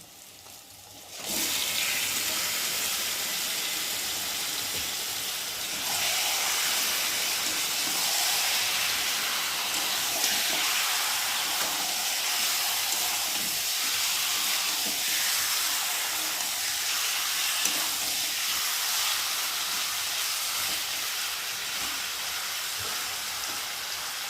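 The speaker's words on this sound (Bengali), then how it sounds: "আর এখন চিকেনগুলোকে দিয়ে ভালো করে কষিয়ে নেব" Chicken pieces fry in hot spiced oil, a loud steady sizzling hiss that starts abruptly and then keeps up, slightly intensifying, with faint clinks and no talk.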